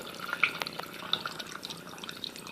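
Water running and dripping through a python-style aquarium water changer hose, with a continuous trickle broken by small splashes and drips, close and moderately loud, no talking.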